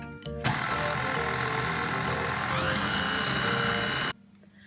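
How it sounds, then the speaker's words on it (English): Steady mechanical whirring as cake batter with cooled melted butter is whisked for a magic cake, a continuous buzzing drone that lasts about four seconds and then stops abruptly. "you're going to whisk that until it all comes together"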